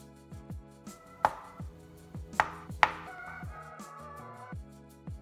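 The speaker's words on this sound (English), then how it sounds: "To scoop out the flesh, we'll use a spoon and then I'll slice it up." A knife cutting avocado flesh on a board after it has been scooped out with a spoon, heard as a series of sharp taps and chops, three of them louder, over faint background tones.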